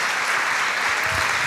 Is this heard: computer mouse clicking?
no